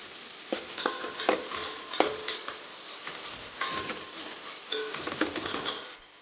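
Chopped onion sizzles and fries in hot oil for a vegetable pulao, with steady crackling broken by repeated scrapes and clinks of a stirring spoon against the pan, close and moderately loud.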